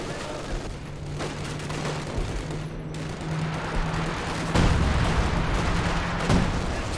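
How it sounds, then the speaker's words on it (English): Artillery barrage in Company of Heroes 2, a World War II strategy game: booming shell impacts and rattling gunfire roll through a dense battle soundscape, with a heavy blast near the middle and another shortly after. "Major dropping down some artillery there."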